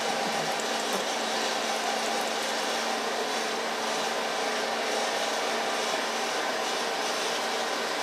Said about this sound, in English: Just gently blow dry it.